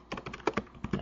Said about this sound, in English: I just again type in my disable command